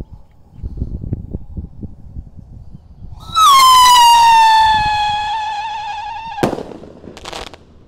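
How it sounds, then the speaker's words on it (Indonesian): A Roman candle firework launches at dusk with a sudden loud whistling shriek that holds steady and slowly fades over a few seconds, ending in a sharp pop, after rustling and low background noise. "Ini roket Roman Candle kita nyalakan juga guys sore ini. Siap meluncur."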